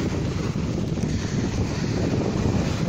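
Strong, steady north wind buffets the microphone on a beach spit, a constant low roar with faint surf in the background and no voices.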